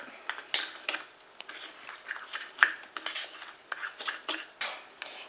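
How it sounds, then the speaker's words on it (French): A metal spoon stirs a honey, sugar and coconut oil lip scrub in a small dish, giving close, repeated scraping and light clinks in an uneven rhythm, with no voices. "je rajoute une cuillère à café d'huile de coco et je mélange à nouveau."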